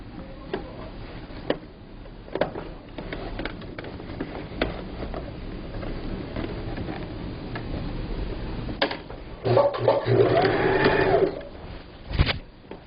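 A sewing machine stitches a low table cover in quarters, making a soft, rapid ticking with intermittent clicks, then runs louder in a brief burst near the end, close by.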